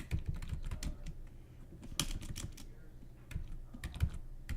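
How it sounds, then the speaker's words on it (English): A search term being typed on a computer keyboard: a close, irregular run of clicking keystrokes with short pauses, heard alone. "So we type in running up."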